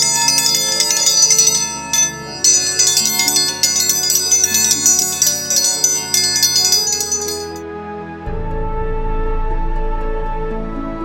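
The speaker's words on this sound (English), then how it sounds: "when you hear the dinner bell, well, friends, it's time to eat" A dinner bell at a Wyoming dude ranch rings loud and close in a rapid, steady clanging run for about seven seconds, then gives way to low rumbling background noise.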